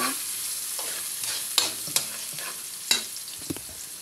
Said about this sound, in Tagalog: ilagay na po si bawang at saka sibuyas. Atin po yung halu-haluin hanggang medyo dumilaw na